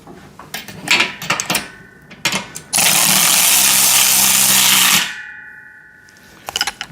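A power tool whirs in one steady burst of about two seconds while bolts are tightened on a VEVOR pec deck and rear delt home gym machine, with scattered clanks and metal handling before and after.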